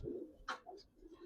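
Giribaz pigeons cooing softly, low murmuring coos with a brief sharper flutter-like burst midway, close by and quiet, no talking.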